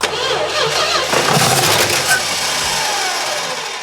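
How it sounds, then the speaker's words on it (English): Plymouth Duster with a 340 engine that sat for 30 years, cranking loudly and trying to catch on brake cleaner poured down its intake, a close, continuous churning roar with uneven surges. "cranking it up and seeing if it fires with brake clean down its throat"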